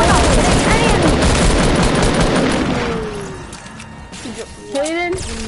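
Another player's gunfire in Fortnite rattles off in dense, rapid bursts for about three seconds, then thins to a few scattered shots as it fades.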